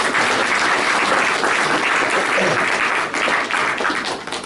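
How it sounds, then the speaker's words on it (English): Audience applause at a Westport gathering honouring Tidy Towns volunteers, a dense sustained wash of clapping from a large crowd, loud and continuous with no talk. "I would just give yourselves a round of applause"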